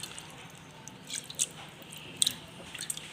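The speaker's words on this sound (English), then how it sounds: "I'm just mashing it roughly, the ginger and the garlic in the rice" A hand squishes and mashes ginger and garlic into soaked rice with water, giving wet, irregular squelches and soft drips up close, fairly quiet, with no voices.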